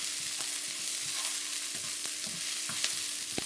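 Garlic, ginger and onions sizzle steadily in a hot pan over lowered heat, a constant close hiss broken by occasional scraping stirs.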